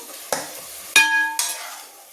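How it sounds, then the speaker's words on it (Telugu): Cooked broad beans tipped into a pan of tomato curry: three distinct clanks of a metal spoon against the pan, each followed by a brief soft sizzle, loud and close, with no talking. "ఈ ఉడికిన చిక్కుడుకాయలని ఇలా యాడ్ చేద్దాము"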